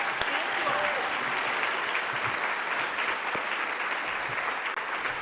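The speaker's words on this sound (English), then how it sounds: "Give them a big round of applause." An audience at a fundraiser event claps in a sustained, even round of applause that carries on throughout, moderately loud with a roomy spread, a few voices faintly mixed in.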